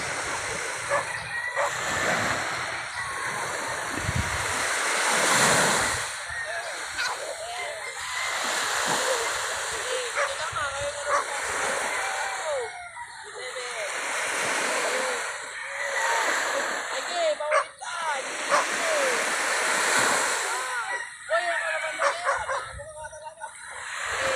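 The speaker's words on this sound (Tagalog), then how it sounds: "Matinig pa yung isang alon." Waves wash and surge in slow swells, while roosters crow and cluck nearby and voices chatter intermittently.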